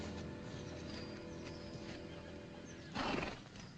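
A cavalry horse whinnies briefly amid a steady rumbling background, the neigh standing out loud for a moment near the end.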